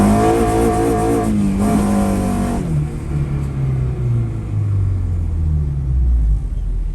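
A modified 600 hp car built for drag racing, with stainless steel piping and an FGK chambered exhaust, revs loudly close by, then its engine note drops into a deep, rumbling idle that wavers in pitch.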